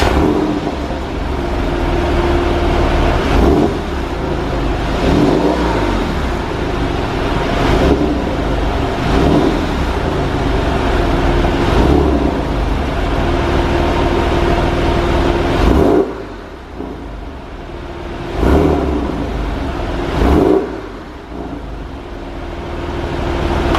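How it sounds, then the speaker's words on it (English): Porsche 911 engine fitted with a Fister sports exhaust idles and is blipped repeatedly, several sharp revs rising over a steady rumble, loud and close, with brief drops toward the end. "This is the after with the Fister Sports exhaust now."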